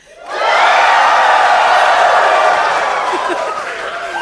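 Large crowd cheering loudly as if a team had just won the World Cup, a dense sustained roar of voices and whoops that swells in quickly and holds steady.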